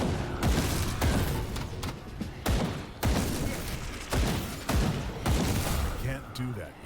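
A character firing a weapon in Grim Dawn, a series of heavy, evenly spaced thumping shots roughly every half second to second, loud and close, with a person talking over them.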